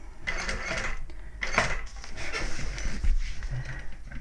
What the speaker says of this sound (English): needle down, and I'll do one stitch and one stitch back